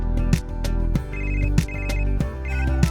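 A loud electronic phone ringtone plays a repeating chiming melody close up, with no voices.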